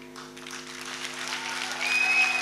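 An audience claps for the Udupi district revenue department team at a DC office event, with soft, diffuse applause swelling gradually over a steady electrical hum and a faint high whine.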